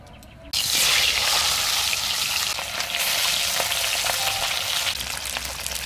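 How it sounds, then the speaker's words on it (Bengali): Pabda fish hit hot mustard oil in a wok with a sudden loud burst. A dense, steady sizzle follows close by and holds throughout with light crackles. "তেল গরম হয়ে গেছে, একে একে মাছগুলো কড়াতে ছেড়ে দিচ্ছি।"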